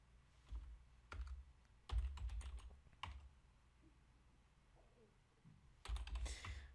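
Someone types a password on a computer keyboard: scattered bursts of quick, close key taps separated by short pauses, ending in a dense flurry of keystrokes.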